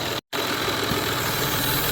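An idling 1990s Toyota Camry engine runs rough with a vacuum leak, a steady close mechanical drone with a broad hiss layered over it, briefly cutting out near the start, no talking.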